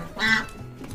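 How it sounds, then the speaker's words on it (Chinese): A duck on a rural village farm gives a single loud, nasal quack close by, followed by quieter background noise. "丈母娘说给我们杀三只鸭子"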